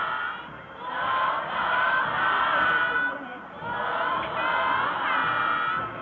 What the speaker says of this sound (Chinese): 25万名民众高呼总统好的呼声响彻云霄